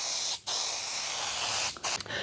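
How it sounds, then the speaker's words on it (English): An aerosol can sprays blending thinner over fresh metallic car paint on a damaged panel: a close, steady hiss, briefly broken by two short pauses near the end. "So I'm just going to put a blending thinner just to tie everything in."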